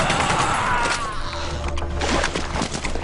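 Rapid bursts of gunfire in The Punisher video game on a pier level, quick close shots in clusters across a few seconds with some ringing tail, with no voice over it.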